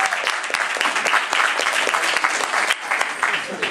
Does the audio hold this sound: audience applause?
yes